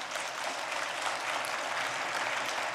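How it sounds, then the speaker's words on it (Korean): A church congregation claps together in steady, dense applause that holds at an even level throughout, with no voices standing out. "박수 한번 해줘. 박수 한번 해줘."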